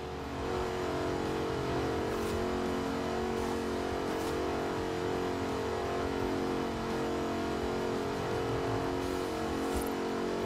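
Jaguar Project 7 roadster, a 250-unit Le Mans tribute successor to the E-Type, driven in Forza Horizon 4, with a steady, loud engine drone holding near throughout and no talking.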